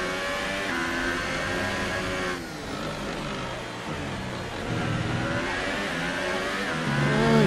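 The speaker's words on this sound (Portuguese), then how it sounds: "Olha esse motor." An F1 race car engine from the F1 2018 video game during the Spanish race, revving loudly at a high, whining pitch that dips briefly, then climbs again and holds steady toward the end.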